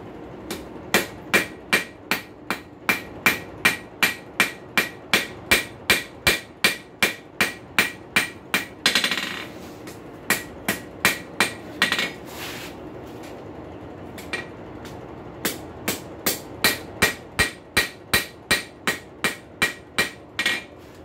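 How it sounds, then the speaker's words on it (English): Rapid, regular ball peen hammer blows on hot steel ring out close by in long runs while forging a rail spike into a grilling fork, pausing briefly before the steady striking resumes. "Ball peen hammer, one of the best weapons in your blacksmithing arsenal for doing delicate work"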